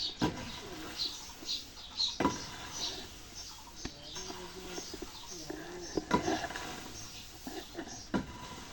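Pigeons coo softly while pecking at paddy grain alongside chickens in a rural yard, low murmuring calls with occasional wing flutters, under a voice calling the birds to eat.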